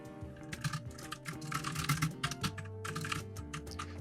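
Rapid computer keyboard typing at close range, a steady stream of clicky keystrokes entering search keywords with no speech.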